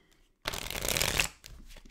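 A deck of tarot cards being shuffled, one dense riffling burst lasting under a second, close and crisp, followed by lighter card handling.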